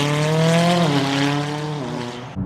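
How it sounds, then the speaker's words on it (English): A McLaren 570S with an aftermarket exhaust roars loudly up close, its engine note holding steady then dropping in pitch as it eases off, ending abruptly. "it does have an aftermarket exhaust. It sounds nuts from the outside"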